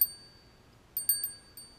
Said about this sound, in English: This kind of has a school bell sound.